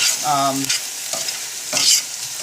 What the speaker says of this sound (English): our vegetables are beginning to saute down